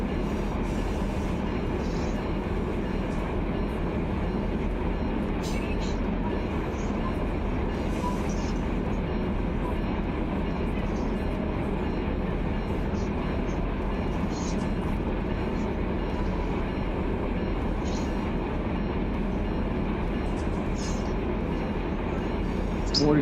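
A freight train rumbles steadily in the Run8 train simulator, with a constant low engine and rail drone and faint clicks above it, and someone talks over it at times.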